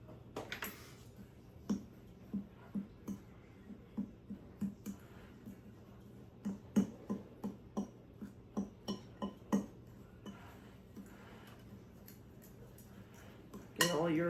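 Cola cake batter mixed in a bowl with a utensil, giving a steady series of rhythmic clinks and scrapes against the bowl, close and moderately loud over a faint background.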